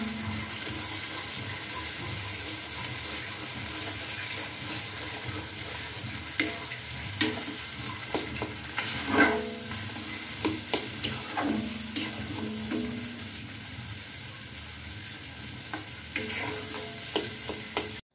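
Banana flower frying in a mix of oil and ghee in a pan, a steady sizzle with scattered stirring scrapes and clinks, fairly close and continuous, with no talk.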